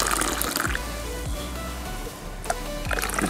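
Healing resin poured into glass vials in a garden setting, a thin stream of liquid filling and trickling steadily, with a few light clinks and drips, close by and fairly quiet.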